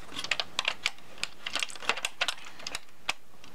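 Plastic Lego Star Wars turret firing mechanism on a Jabba's Palace set pressed repeatedly, giving a string of small, sharp plastic clicks and taps at close range with no talking.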